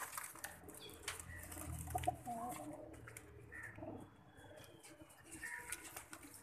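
Pigeons at a pigeon show coo and flap their wings in a dense mix of bird sounds, with faint voices talking in the background throughout.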